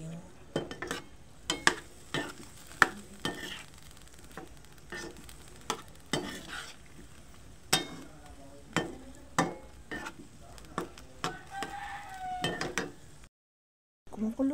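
Ground meat (giniling) being sautéed in a pan, with repeated sharp scraping and stirring clacks of a utensil against the pan over a soft sizzle, irregular and close, with a brief gap near the end.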